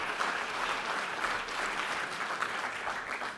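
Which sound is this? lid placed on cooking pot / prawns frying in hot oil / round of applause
round of applause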